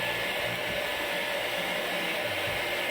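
An air blower cleaning the parts of a disassembled electric fan, producing a loud, constant rushing roar of air that holds steady for the whole stretch with no voices.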